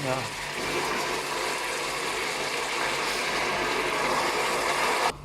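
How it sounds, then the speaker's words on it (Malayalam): Water poured into a pot while aseeda cooks makes a steady, close rushing gush that runs unbroken for about five seconds and then stops abruptly. "വെള്ളം ഒഴിക്കണം കേട്ടാ"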